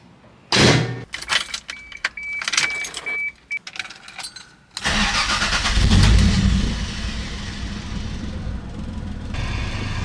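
A Toyota Supra fitted with an ECUMaster engine computer is started, first with keys jangling and a few clicks, then a sudden cranking catch into a loud, steady rough idle that continues close up to the end.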